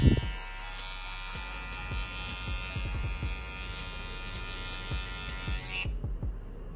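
Electric hair clipper buzzing steadily through a fade haircut, a continuous close hum with light clicking strokes of the blade against hair, cutting off abruptly near the end.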